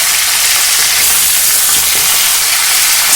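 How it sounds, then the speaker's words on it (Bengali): Cauliflower frying in mustard oil makes a loud, close, continuous sizzle and hiss that stays steady throughout, with no voices. "তাই কিছুক্ষণ কপিটা একটু ভাজা ভাজা হতে দেবো"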